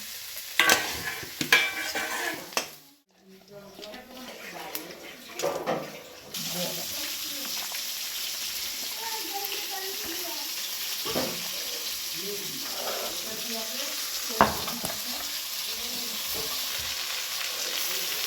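Marinated meat cooking in a pan, a soft steady sizzle with occasional stirring clinks and scrapes, interrupted early by a brief dropout, with quiet voices talking nearby.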